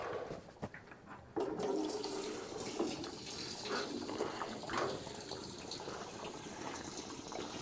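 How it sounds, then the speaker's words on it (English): Fuel poured from an old vented fuel can into the tank of a used 4x4 diesel JLG man-lift, a steady close gurgling splash of liquid that keeps going for several seconds after a brief clatter at the start. "I believe that means it's time for some fuel in the tank."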